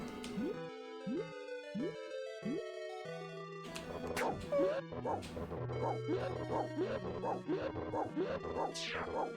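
Dog barks and yips from a Mario-style platform video game, a run of short cartoonish woofs mixed with bouncy game music and chiptune effects, the barks sharp and repeated, with faint talk in places.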